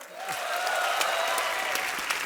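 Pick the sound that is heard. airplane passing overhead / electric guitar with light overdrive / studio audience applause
studio audience applause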